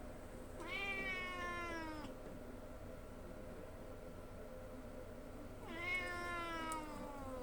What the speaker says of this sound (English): She's meowing at it